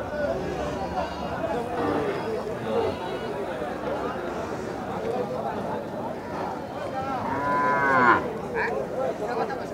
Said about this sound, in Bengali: খুব সুন্দর লাল টুকটুকে একটা ছোট্ট বাছুর আমরা দেখছি এখানে